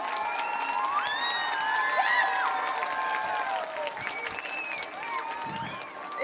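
Audience applause at a Tallinn kindergarten children's song festival, a steady wash of clapping mixed with crowd noise and children's high voices and whoops throughout, with some talk underneath.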